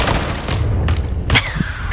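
Gunfire in Call of Duty Modern Warfare, loud close bursts and booming shots in rapid succession, with a sharp crack near the end.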